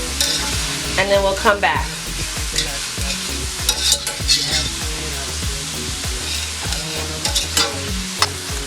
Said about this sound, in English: So we're just gonna let this saute down